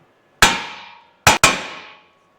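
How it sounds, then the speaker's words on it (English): Three sharp metallic hammer taps on the end of a Toyota Hilux N70 CV shaft, a single strike followed by a quick close double, each ringing briefly before fading, with no talk. "to pop this off, you just give it a bit of a tap on the end there with a hammer"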